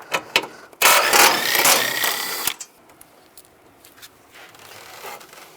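A ratchet wrench with a 13mm socket spins off bolts on a 2010-2017 Chevrolet Equinox during a transmission mount job, a loud whirring burst lasting nearly two seconds between brief clicks, then quieter fiddling noises.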